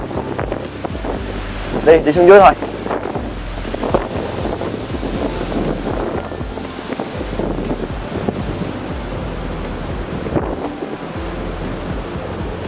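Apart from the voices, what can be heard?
big sea waves crashing on Con Dao island shore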